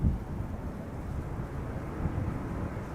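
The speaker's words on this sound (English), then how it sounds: "Embraer 175. Arriving from Munich. Going around." An Embraer 175 jet arriving from Munich going around at Schiphol Airport, heard as a distant low rumbling roar mixed with wind buffeting, steady and muffled with no voices over it.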